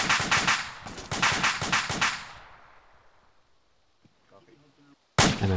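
Close bursts of suppressive gunfire ring out in a military video game, ARMA, with rapid repeated shots for about two seconds. A long fading tail follows, then quiet radio-like blips and a final loud burst.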